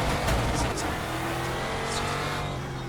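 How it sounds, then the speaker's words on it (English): Racing game engine note of a Euro NASCAR stock car at the Red Bull Ring, a steady loud drone with rising revs and gear changes, heard with a voice talking over it. "Turn the car sound down."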